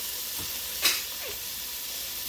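Vegetables lightly salted and cooking in a pan hiss in a steady, soft sizzle, broken by a brief scrape or clatter of stirring near the middle.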